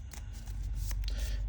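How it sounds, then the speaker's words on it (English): A deck of Marvel Champions game cards is shuffled close up at a tabletop, making a quiet rapid riffling patter with soft flicks and a low rumble underneath. "We'll shuffle these up."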